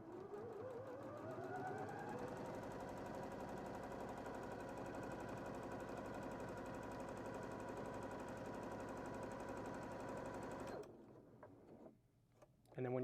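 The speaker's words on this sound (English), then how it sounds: "We're just going to go ahead and sew out on a little strip here." A Janome sewing machine stitches a small strip of fabric in one long, loud, steady rapid whir of needle strokes that winds up at the start and stops near the end, followed by quiet handling.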